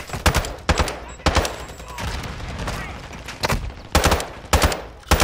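Gunfire in a co-op shooter video game, short bursts of rapid, loud shots separated by brief pauses, with a player talking over the action.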